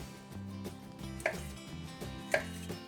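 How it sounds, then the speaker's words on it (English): A knife cuts habanero and Thai chili peppers on a board, giving a few soft, evenly spaced taps and two sharper clicks against faint background music. "all we want to do with these is remove the tops and slice them in half"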